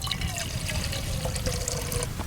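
Clean water pours and trickles at a primitive campsite, a short, close splashing stream with bubbly gurgles.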